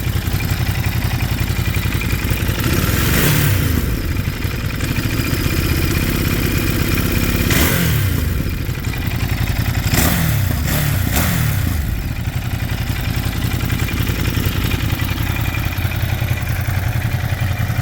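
Ducati Monster 937 motorcycle engine idling loud and close with a steady low throb, broken by several sharp throttle blips that rise and fall around the four- and ten-second marks.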